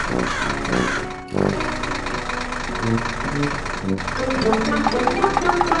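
Cartoon fire truck and tractor engines rumble steadily as the vehicles set off through a forest on a search, a continuous mid-pitched idling drone with a brief dropout partway through, loud and up close.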